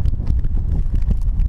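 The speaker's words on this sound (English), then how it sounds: "it's pretty windy today" Wind buffets the microphone in the Murchison in a continuous low rumble, with gusty thumps rising and falling throughout and no voices.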